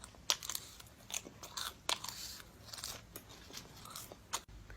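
Close, crisp chewing of cicada nymphs: irregular sharp crunches and bites repeat at a quick, uneven rhythm with soft mouth sounds between, no talk.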